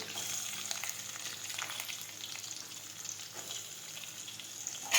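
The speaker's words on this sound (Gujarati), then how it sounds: "હવે આપણે સાતળી લઈશું." Chopped chillies and onions sauté in oil with a soft, even sizzle and faint stirring that stay steady and fairly quiet throughout.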